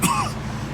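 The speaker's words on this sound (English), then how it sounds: "Every time I cough, it feels like I'm being stabbed in the chest." A man's single short, rough cough and throat clear, close and fairly loud, from a character in the Mafia II video game, followed by a faint low hum.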